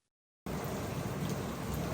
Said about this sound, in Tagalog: appreciate natin yung ulan